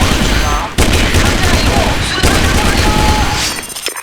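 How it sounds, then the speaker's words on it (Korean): A grenade thrown in the video game Sudden Attack explodes amid loud, dense gunfire, with sharp blasts and sustained rattling bursts filling the whole stretch. "자, 수류탄 갑니다. 수류탄 투척."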